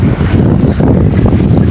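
Cold wind blows outdoors in Japan, buffeting the microphone with a loud, continuous roar and rushing gusts.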